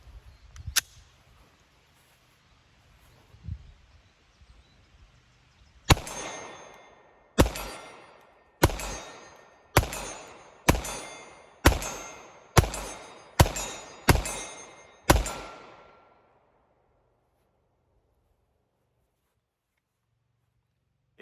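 Ten Glock pistol shots with Blazer Brass 124-grain ammunition fired at a steel target, sharp loud cracks with a ringing metallic ping, evenly spaced about a second apart, then silence.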